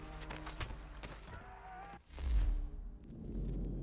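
Hooves clip-clop at a steady gallop in Assassin's Creed III over a rumbling game soundscape, with a whoosh midway and a horse snorting nearby.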